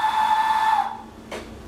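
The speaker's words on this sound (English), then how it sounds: "If I move the slide whistle up, I'm setting a shorter length, a shorter wavelength, and now I'm going to get that higher frequency." A slide whistle with its slide pushed up to a shorter length sounds one clear, high, steady note that bends slightly upward, then stops abruptly; a short breathy burst follows.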